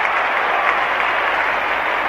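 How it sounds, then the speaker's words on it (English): Noisy crowd at the 1968 VFL Grand Final between Carlton and Essendon, a dense roar of cheering and applause that stays loud and steady throughout. "The crowd was too noisy."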